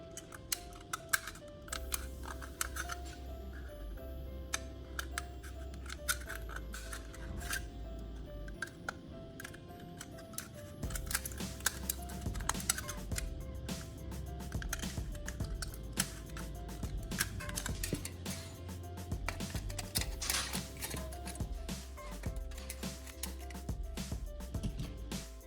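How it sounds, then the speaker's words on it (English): Sharp scissors cut the thin aluminum sides of a Coke can into strips, making a dense run of close, crisp clicks and snips that continues steadily under a low background hum. "using a pair of sharp scissors, I'll cut the sides of the can into even strips."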